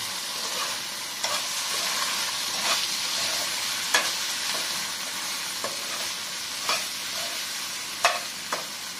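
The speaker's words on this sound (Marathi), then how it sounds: "थोडासा सोया सॉस, थोडंसं शेजवान चटणी टाकून घेऊया आणि 1 चमचा इथे आपण सॉस टाकून घेऊया टोमॅटो केचप आणि याला चांगलं परतून घेऊया।" Egg 65 sautéing in a pan with soy sauce, schezwan chutney and tomato ketchup: a steady close sizzle of frying, broken by sharp clinks and scrapes of a spoon stirring every second or so, with no voices.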